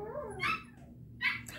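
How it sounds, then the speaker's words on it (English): Dogs playing outside a house, heard as a couple of short whimpering yips and bark-like bursts at moderate distance, separated by a brief quiet gap. "That's the dogs playing outside."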